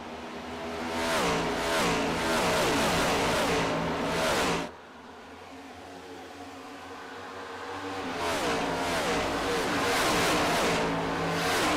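Race car engines in iRacing at Pocono Raceway, a pack of stock cars roaring past with rising and falling revs, a loud whining wave that drops away briefly and then swells back as more cars close in.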